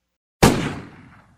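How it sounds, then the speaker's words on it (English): A pistol gunshot in an audio drama: one sudden loud, close bang that decays into a short fading echo, after a moment of silence and with no talk. "The gunshot causes me to cry out in fear and shoot up"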